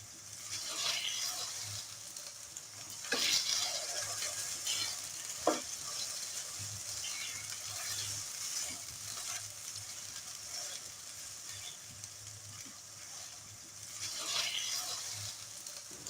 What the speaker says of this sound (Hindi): खूब अच्छी तरह से भुनना है ताकि इसका कलर चेंज हो जाए